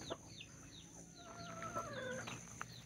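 Chickens in a coop at a rural hillside cafe in Talaingod, Davao del Norte, clucking and calling close by in short repeated bursts. Sharper cries and a few chirps sit over a steady outdoor background, with no talking.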